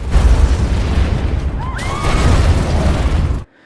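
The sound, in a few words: car explosion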